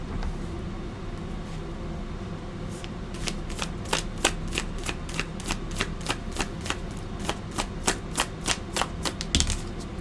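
Tarot cards riffle and snap in a steady run of sharp, close clicks, building into fast repeated flicks as the deck is shuffled and cards are pulled, over a low background hum.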